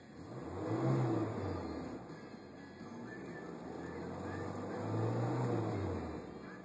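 A 1993 Ford Ranger XLT pickup engine idles with two swells of revving. The low mid-range drone is close and steady between the rises.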